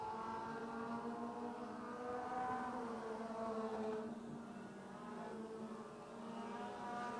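NEMA Lites midget race cars lapping a short oval track, a steady, dense engine drone that rises and falls as the cars circle, heard at a distance without any nearby talk.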